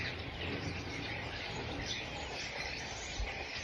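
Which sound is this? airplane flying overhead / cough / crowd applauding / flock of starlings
flock of starlings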